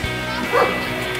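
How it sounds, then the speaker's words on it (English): A dog outdoors at dusk beside a backyard smoker, giving a short yip-like bark over a constant background hum, fairly close and alone. "Of course, the dog is barking again."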